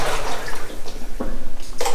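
Sloshing and splashing as someone wades through water inside an abandoned Welsh silver, zinc and lead mine, with close, loud swishes of water breaking in uneven pulses.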